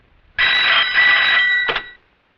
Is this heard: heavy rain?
no